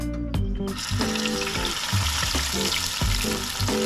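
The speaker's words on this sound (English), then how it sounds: "So in a frying pan set to medium heat, we're gonna throw in our chicken." Steady crackling sizzle of chicken frying in a pan over medium heat, continuous and close, with a few clinks and scrapes of utensils.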